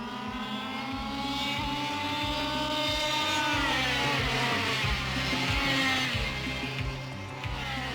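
Go-karts racing on a private farm track in Brazil, their high buzzing engines rising and falling in pitch as they rev hard, a steady loud drone throughout with no voices.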